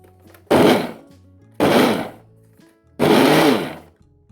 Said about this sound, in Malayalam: മിക്സിയിൽ ഒന്ന് അടിച്ചെടുക്കാം കേട്ടോ